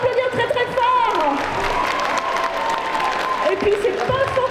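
A crowd at a cosplay contest in Bordeaux claps steadily with some cheering, the applause running the whole clip while a voice speaks over it.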